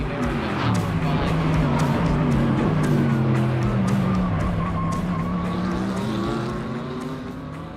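GT race cars, including a yellow Mercedes and a red Ferrari, roar past at Indianapolis in a GT World Challenge America night race, with a dense, steady engine drone throughout that fades slightly at the end.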